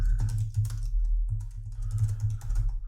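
A computer keyboard typing a command to check a PostgreSQL installation: quick, uneven key taps over a strong low hum, with no one speaking.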